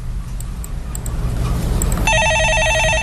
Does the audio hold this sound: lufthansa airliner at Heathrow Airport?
no